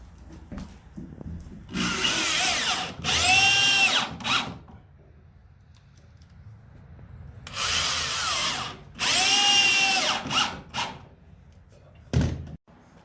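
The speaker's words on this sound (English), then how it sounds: "he'll screw those in with construction screws" Power drill driving construction screws through porch tongue-and-groove floor boards: two pairs of loud, close whirring bursts, each rising in pitch as the screw seats, separated by quiet pauses, with a short final burst near the end.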